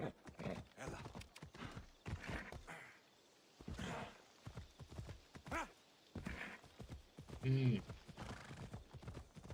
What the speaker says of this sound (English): This horse is more durable than the one I have in Ghost of Tsushima.